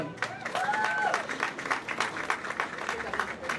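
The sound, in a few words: crowd applause at housing rally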